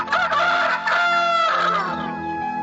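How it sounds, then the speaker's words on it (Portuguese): A rooster crows once, loud and close, a single drawn-out call that trails off, with no talk over it. "o galo cantou."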